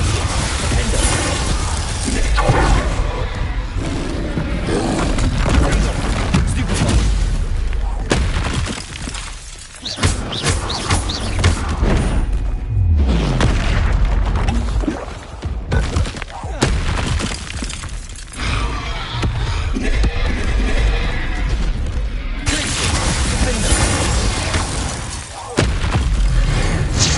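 Spell blasts and explosions from a Harry Potter video game boom and crash in rapid succession, loud and dense for nearly half a minute, with shattering hits and heavy thuds over an ongoing rumble.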